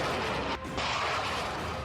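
Missile strikes and artillery fire in Russia-Ukraine war footage: a sustained loud, broadband roar of blasts with a brief dip partway through, no talking.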